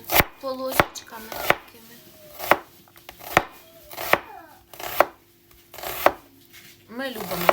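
Steady knife chopping onion on a board for Chinese fried rice, about ten sharp, evenly spaced strikes close by, with faint background sounds and no talking.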